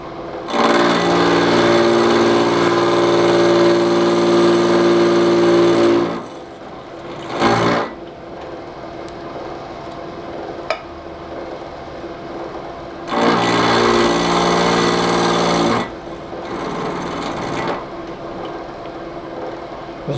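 A carbide-tipped, three-tip cutter drills out a broken stainless steel bolt on an oil housing, running loud and steady in two long bursts with a high whine, separated by quieter pauses and brief spin-ups.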